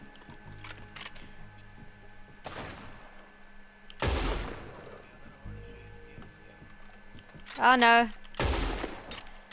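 Gunfire in the online western game Red Dead Online during a saloon fight: several bursts of loud shots, scattered and then clustered, with a voice speaking briefly over the shooting.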